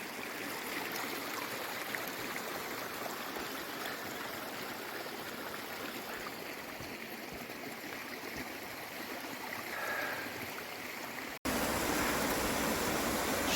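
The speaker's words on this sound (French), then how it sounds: "c'était bien un ruisseau. Ah, ce doux bruit." A brook running beside a footpath on the way to Compostela gives a continuous rushing, gurgling wash of water, steady and close, and turns slightly louder and brighter after a brief cut near the end.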